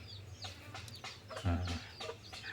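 Jungle fowl hens kept free-range around a house cluck close by, a few soft low clucks and brief calls rising in a short burst, quiet and with no talk.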